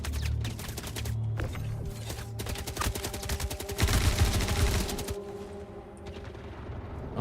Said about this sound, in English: yes, that is gunfire.